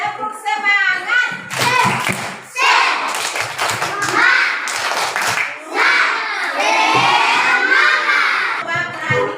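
Children in a classroom doing a rhythmic spirit clap, sharp clusters of claps mixed with loud shouted chanting from a group of young voices, energetic and close.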